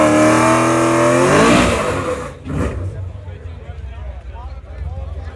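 A Chevrolet Camaro accelerates hard at a drag race. A loud engine roar climbs in pitch, then fades as the car pulls away, leaving crowd chatter and people talking nearby.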